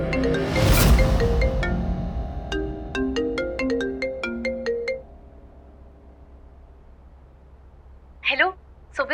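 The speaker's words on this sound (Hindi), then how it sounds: "सोबित भाई को फोन करती हूँ।" A phone plays a melodic ringtone of bright chiming notes while a call is being placed. The ringing is up close and stops after a few seconds, leaving a quiet pause before a voice answers.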